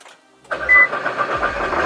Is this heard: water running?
no